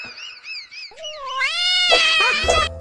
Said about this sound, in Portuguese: Jeremia, o gato bom de briga, foi enfrentá-lo.